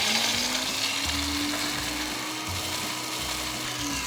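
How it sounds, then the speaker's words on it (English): A blender whirs steadily at close range while briefly mixing a Navy Grog tiki cocktail, a continuous motor whine with a slight rising pitch and a rattle of crushed ice, no voices. "If you got a blender like me, then 3 to 5 seconds."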